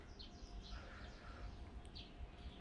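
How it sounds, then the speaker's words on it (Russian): Faint birds chirp and trill in the distance over a quiet, low outdoor rumble, in a wooded cemetery in Moscow in May. "Пение птиц слышно."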